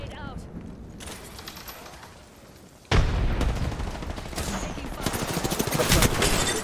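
Gunfire in the Apex Legends video game, bursts of rapid automatic shots and impacts that grow denser and louder after a sudden onset midway, with players talking over the action.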